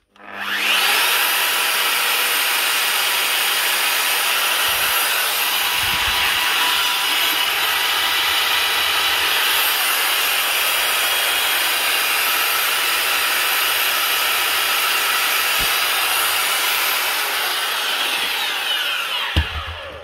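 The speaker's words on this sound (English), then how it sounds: "This is a Rokamat plaster finishing machine. A big spinning disc for finishing plastered walls. This one is running." A Rokamat plaster finishing machine, with a big spinning disc for plastered walls and stuck on high speed, whirs in a loud, steady high-pitched whine throughout, with occasional faint knocks.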